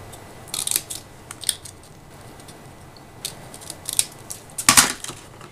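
Scissors snipping a notch into the folded end of a paper bag during a craft project, a few short, crisp cuts spaced out over several seconds with faint rustling between them.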